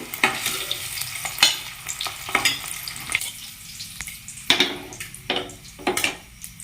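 Eggs frying in oil in a pan for an egg masala curry, with a steady sizzle under repeated scraping and stirring clatters of a utensil against the pan, close and fairly loud.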